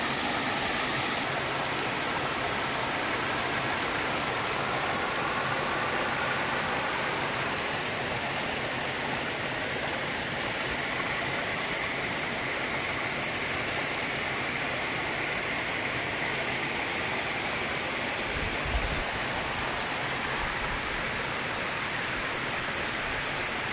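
Water pours heavily over the NR Puram waterfall in a constant, loud roaring rush that stays even and unbroken throughout, with no voices over it.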